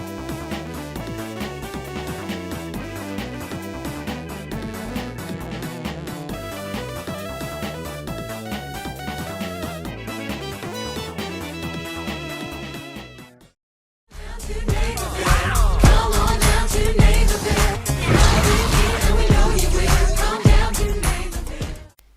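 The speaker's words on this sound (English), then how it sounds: "Just listen to this soundtrack." Upbeat, densely layered electronic game-style music plays continuously, cuts out briefly to near silence, then returns louder and fuller.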